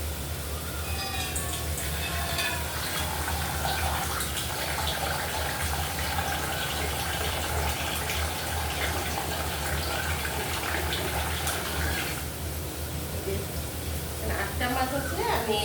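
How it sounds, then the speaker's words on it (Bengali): Water is poured from a bowl into fried, well-cooked masala for a pabda fish curry with coriander leaves, making a steady gushing pour that runs through most of the clip with a change near the end. "জল ঢেলে দেবো।"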